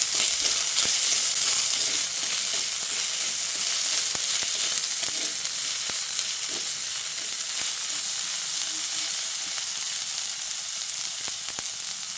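Chopped medium-size tomato and ginger sizzle as they fry in a pan for a Bengali aloo dum, a steady, bright hiss that holds for a long stretch with occasional faint clicks and no voices.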